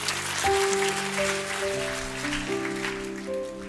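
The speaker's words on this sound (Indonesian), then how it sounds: "Tepuk tangan dulu." Steady applause from a church congregation during a sermon, sustained throughout with sustained music tones layered underneath.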